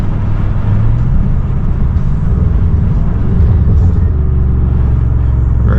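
Mack M550 dump truck engine heard from the cab, a loud continuous diesel rumble with shifting tones as it downshifts, steady and close throughout.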